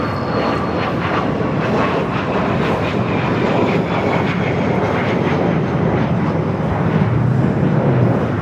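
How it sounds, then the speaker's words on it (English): Learjet jet aircraft taking off at Los Angeles International Airport, a steady loud broadband engine roar that holds throughout and swells slightly toward the end, with no talk. "With a Learjet about to take off"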